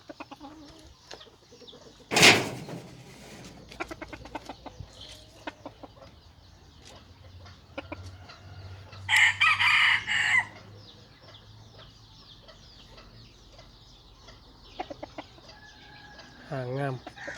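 Bantam chickens clucking softly in a farmyard, with a loud rooster crow near the start and another crow midway, while a person talks faintly at times.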